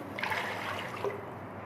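Water poured into a cooking pot for rice pulao, a steady soft trickle and splash lasting under two seconds, fairly quiet and heard alone.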